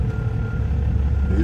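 A semi truck backing up a trailer, with reversing beeps sounding over a loud, close, low engine rumble.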